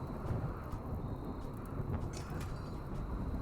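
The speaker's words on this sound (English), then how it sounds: "And it is now raining." Rain falls in the colony survival game Rimworld as a steady, dense wash of low rumbling noise with a few faint crackles on top, continuous and even throughout, with no voices.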